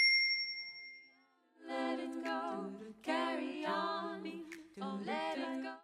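A bright notification bell ding rings out with a sustained tone, then a run of layered chiming tones follows in several bursts, loud and close with no talking.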